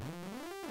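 A bright, buzzy tone from the free Vital software synthesizer, a single note sweeping up and back down in pitch, loud and alone.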